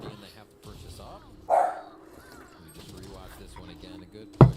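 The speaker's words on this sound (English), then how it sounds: "Stop barking." A dog barks in short bursts, one near the middle and a sharper one at the end, during a C9 vs G2 Valorant esports broadcast, with commentators talking steadily underneath.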